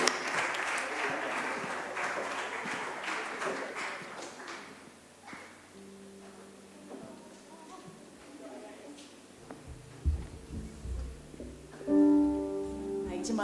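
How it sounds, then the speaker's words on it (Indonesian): Applause for the Philippi Choir fills a church service, strong at first and fading after a few seconds, followed by scattered taps, quieter room sounds and tonal instrument notes near the end. "sekali lagi boleh kasih tepuk tangan untuk Philippi Choir"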